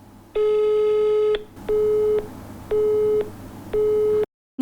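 A telephone busy signal sounds during an unanswered call to a neighbourhood contact number, with four loud, evenly repeated electronic beeps separated by short gaps before the line cuts to silence.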